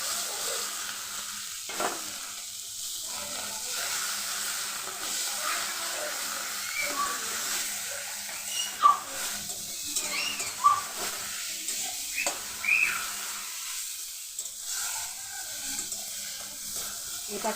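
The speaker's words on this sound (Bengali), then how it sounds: "সরষের তেল দিয়ে দিলাম, এখন কালো জিরে দিয়ে দেবো, ফোড়ন করে নেব।" Black cumin and kharkon leaf paste frying in mustard oil, a steady soft sizzle and hiss with occasional stirring scrapes and small pops, continuous and fairly quiet throughout.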